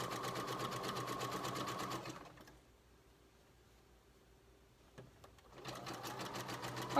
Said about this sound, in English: we're sewing in the second leg of the elastic, just stitching it around